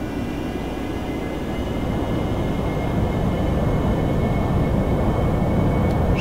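An AV-8B Harrier jet engine in DCS World spools up with the wheel brakes on, a steady, dense roar that swells slightly toward full power and continues unbroken.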